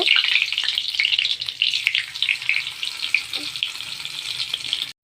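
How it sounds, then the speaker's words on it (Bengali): Meat fries in oil with a bay leaf and chopped onion, a bright, crackling sizzle that stays loud and close throughout with occasional stirring clicks, then cuts off abruptly at the end. "এখন মাংস বসাবো, মাংসটা কষিয়ে নেব"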